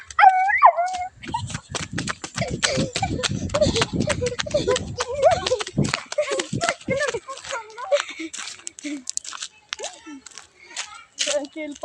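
Several dogs bark, yip and whimper close by in an outdoor setting, busy and overlapping, with people talking over the noise.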